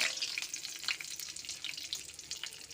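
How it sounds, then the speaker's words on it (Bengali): Whole garlic cloves and chopped bay leaves frying in mustard oil as a tempering for mutton curry: a close, busy crackling sizzle with scattered pops, steady throughout at moderate volume. "এই যে গোটা রসুন নিলাম 5-6টা আর দুটো তেজপাতা কুচি মিশিয়ে ফোড়ন দিলাম।"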